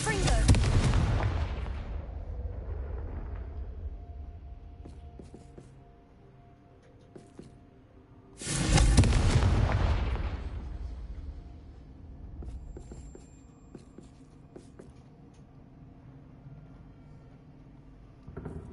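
Two heavy fire-blast explosions from the Confringo spell in Hogwarts Legacy, each a loud, booming burst that rolls off into a long fading rumble, about eight seconds apart.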